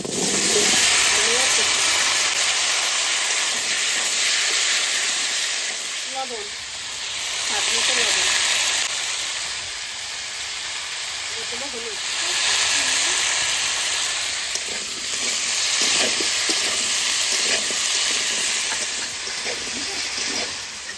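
Cabbage frying in a pan with bay leaf and cumin, giving a steady loud hiss and sizzle that swells in waves, with faint scraping of a utensil underneath.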